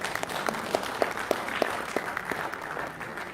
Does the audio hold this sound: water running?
no